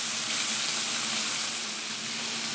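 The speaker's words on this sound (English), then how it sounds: "So the meat is now browned. I'm going to add all the vegetables in there together." Vegetables hit a pan of browned lamb mince for a lasagne ragu, producing a loud, dense, continuous sizzle with faint stirring, close and steady throughout.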